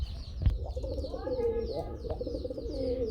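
Pigeons coo inside a cage close by in low, rolling calls, with a sharp knock near the start and quiet voices underneath.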